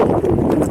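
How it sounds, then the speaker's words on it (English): Horses walking along a riparian trail at Chatfield State Park, hooves clip-clopping steadily and close by in a brief, dense burst, with a low murmur underneath. "Try and go around these horses."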